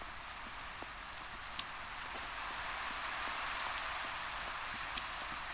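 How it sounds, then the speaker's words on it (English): Rain falls steadily in Minecraft, a broad, even hiss with occasional soft drop ticks, holding at a moderate level throughout with no talk. "It is still raining."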